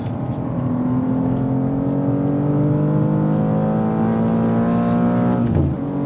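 A 2023 BMW M2 G87 on a circuit, engine note climbing steadily under hard acceleration, then a sharp gear change drops the pitch near the end, loud and close with no talk.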